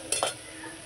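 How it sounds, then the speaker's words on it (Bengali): Chili powder and spices get stirred into food frying in a pan, with a couple of quick scraping strokes over a soft, steady sizzle. "ভালো করে একটু নাড়িয়ে নেব।"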